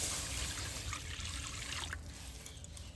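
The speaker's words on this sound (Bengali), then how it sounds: "গরম করার মধ্যে গায়ে দুধ দিয়ে দেবো।" Cow's milk trickles and pours into a wok warming on the heat, a steady close liquid stream with small splashes that gradually thins out over a few seconds.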